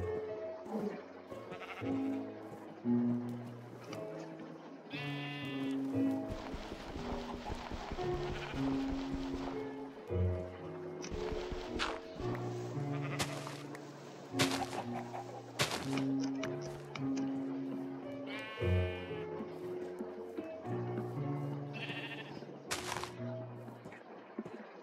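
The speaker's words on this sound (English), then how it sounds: "And you look like a good sheep too." Sheep in the Animal Craft video game bleat repeatedly over a busy stretch of in-game music and effects, with several clear calls standing out at intervals.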